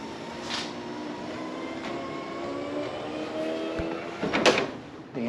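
The new motors of a flooded, formerly abandoned Honda S2000 raise its convertible top with a steady, droning mechanical whine, ending in a short clunk as the top settles.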